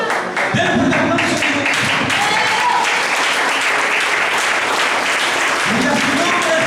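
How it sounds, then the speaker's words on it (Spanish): A church audience bursts into loud, sustained applause, a thick wash of clapping that runs throughout, with voices calling out beneath it. "Denle un aplauso."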